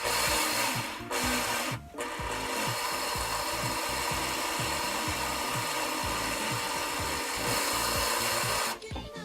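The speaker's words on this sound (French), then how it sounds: "Pendant que je perce." Continuous harsh grinding drone of a drill boring holes in a tri-blade rotor for an H122D model helicopter, with a rough pulsing rattle, close and loud, briefly cutting out twice and stopping near the end.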